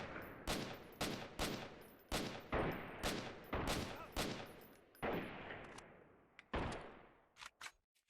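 Rifle fire from a firefight in Freeman: Guerrilla Warfare: a steady series of sharp, loud shots about every half second to second, each with a short echoing tail, ending in a quick closing flurry, with no one speaking.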